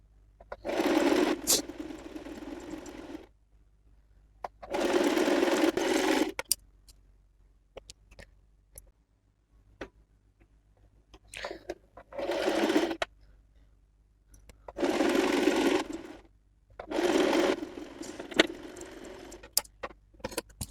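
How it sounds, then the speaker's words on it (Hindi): An electric sewing machine stitching blouse fabric runs in five or six separate bursts of fast, rattling stitching lasting a second or two each, separated by quiet pauses. "मेन फैब्रिक को हम इस तरह से रखेंगे और स्टिच लगाते जाएंगे"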